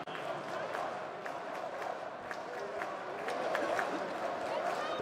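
A CS:GO tournament crowd at the PGL Major Stockholm 2021 during G2 versus Natus Vincere, a sustained arena roar of cheering with scattered claps and shouts, running under a commentator's voice.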